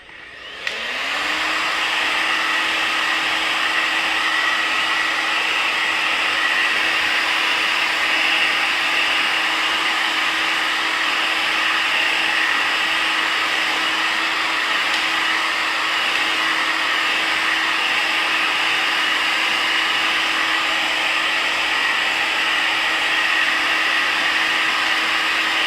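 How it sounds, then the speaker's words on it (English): A hair blow dryer switches on and runs at a steady, loud whoosh with a constant motor whine, unbroken and close for the full length, with no voices. "they can't stand the noise of the blow dryer"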